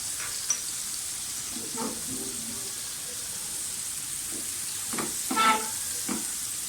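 Chicken breast pan-frying in oil over low-medium flame gives a steady soft sizzle, with occasional stirring and scraping bursts and a few brief louder crackles, no talk.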